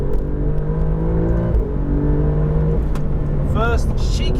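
An Alfa Romeo Giulia GTAm pulls hard on a race track, its engine roaring loud and steady with rising, shifting tones and a brief whine near the end.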